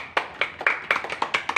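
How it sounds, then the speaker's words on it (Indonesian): Classroom clapping for a student group in a Year 4 lesson, a series of about eight sharp, fairly close hand claps coming in an uneven rhythm with no talk over them. "Tepuk tangan buat kelompoknya Tatin."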